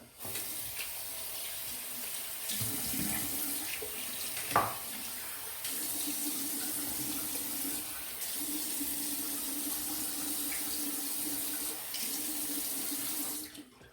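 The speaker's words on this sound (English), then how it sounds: "So I'm gonna rinse this off. I'm gonna apply a little bit of water to my cheek line here." Tap water runs steadily from a faucet into a sink for rinsing during a head shave, a continuous close splashing stream with a brief clunk partway through and no talking.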